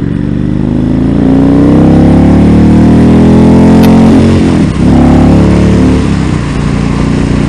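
A 2017 Indian Chief Dark Horse motorcycle engine roars loud and close, revving steadily upward as it accelerates hard, bouncing briefly off the rev limiter near the end before settling back into a strong drone.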